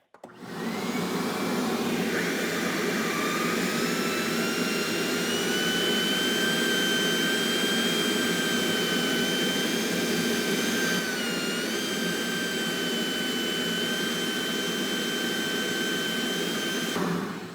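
A Ridgid 5 hp, 4-gallon wet/dry vacuum runs continuously with a loud, close, jet-like roar for about seventeen seconds. Its pitch shifts slightly as the hose is moved around.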